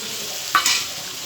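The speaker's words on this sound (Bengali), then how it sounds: "এবার আমি মাংসটা দিয়ে দেবো" Chicken meat drops into a hot pan for a chicken, potato and pumpkin curry with a short sharp sizzle, then is stirred with a quick scrape; the hissing swells briefly and settles back to a low fry.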